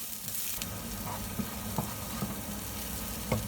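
Steady sizzling of scallions, garlic and chili frying in hot oil, with a few soft clicks of a utensil stirring in the pan.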